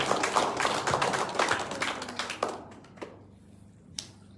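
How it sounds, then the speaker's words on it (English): An audience claps for a councilman at a Navajo Nation event, loud, dense clapping that thins out and stops halfway through, leaving a few scattered claps at the end. "Give him a round of applause."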